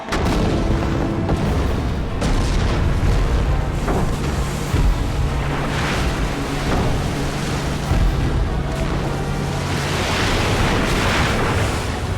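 Booming cinematic artillery fire from warships targeting an inlet, a dense barrage of loud blasts and rumbling impacts rolling on continuously with sharp bursts layered over a heavy low roar.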